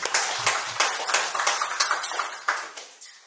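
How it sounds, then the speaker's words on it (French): A small audience claps at an evening talk, a brief spell of scattered, moderately loud claps that gradually thin out and fade. "On peut l'applaudir bien fort."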